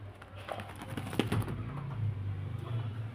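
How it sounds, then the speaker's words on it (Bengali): Pigeons at a bird seller's yard coo in low, soft, repeated throaty rolls, close by, with a faint tap or two and no talking. "এই যে পায়রাগুলো দেখুন খুব সুন্দর হলুদ চোখের নর"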